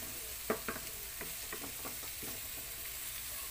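Capsicum and onion fry quietly in a pan, a low sizzle broken by a cluster of spatula taps and scrapes early on before settling into a faint steady hiss.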